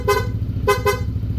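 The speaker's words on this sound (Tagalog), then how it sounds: "Sa busina, ang nilagay natin is PIAA dual horn setup." A PIAA dual horn fitted to a Honda PCX160 motorcycle gives three short, loud honks, one single blast followed by a quick double, over a low idling engine.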